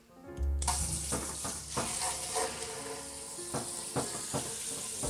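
Water rinses out a Braumeister automatic brewing tank: a steady, close rushing spray starts abruptly and keeps going, broken by occasional knocks and clunks, with no talking.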